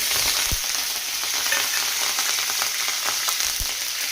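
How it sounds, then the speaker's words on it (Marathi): Hot oil sizzles loudly and continuously as a tempering of curry leaves and garlic fries for yogurt kadhi, with spices crackling and a few sharp pops close by. "फोडणी छान तडतडली आहे"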